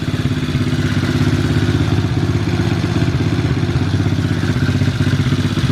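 A 110/125 cc quad bike with a practically new engine idles close by, a steady, rapid single-cylinder putter with mechanical clatter running evenly throughout, no voices.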